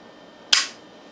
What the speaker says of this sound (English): we're going to ease back on it until it clicks